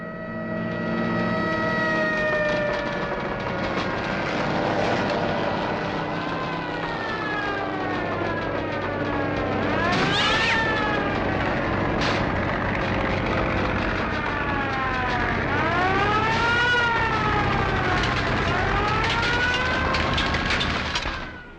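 A fire siren wails from a firehouse just down the street, rising and falling in several long sweeps over a steady, sustained tonal background.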